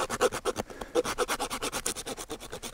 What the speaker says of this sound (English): It's a flat cut now on the pelvic bone